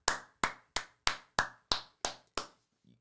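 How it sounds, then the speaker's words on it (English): Eight sharp, evenly spaced hand claps ring out alone and close by, a slow deliberate round of applause after a one-on-one basketball game. "Round of applause."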